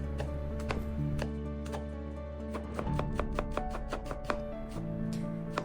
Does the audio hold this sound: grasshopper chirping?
no